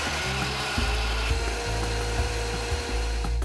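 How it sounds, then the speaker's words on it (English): A motorized grinder churns coriander seed powder and chili powder into a spice paste, a steady loud whirring drone with slight pulsing changes in load, heard alone without talk. "now we're going to grind this to a paste."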